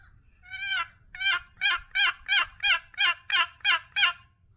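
A wooden Swamp Boys custom box call imitates a turkey, starting with a couple of drawn-out notes and then running into nine quick, raspy yelps, played close with no voices.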